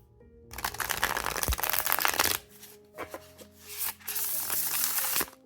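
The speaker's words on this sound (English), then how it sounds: "This is a beautiful shuffle." Oriens Animal Tarot cards with a matte finish being shuffled by hand, giving close, crisp riffling bursts that break off midway and then pick up again in short flurries.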